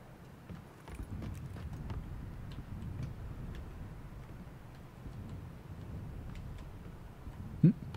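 Footsteps in the PUBG Battlegrounds video game: a steady run of soft, evenly spaced clip-clop steps continuing throughout at moderate level over a low ambient bed, ending with one brief sharper knock, with no talk.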